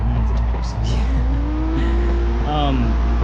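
A car drifting around the Osaka Nanko track in the video game Assetto Corsa, its engine droning and rising in pitch at steady high revs, with a tire squeal and a shifting whine near the end.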